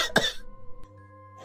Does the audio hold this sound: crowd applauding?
no